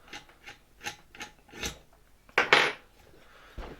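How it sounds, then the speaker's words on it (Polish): A screw is worked loose on an old Electrolux V vacuum cleaner being taken apart, a series of small close metallic ticks and scrapes followed by a louder grinding rasp and a final clunk. "Ta śruba też bardzo ładnie się odkręca."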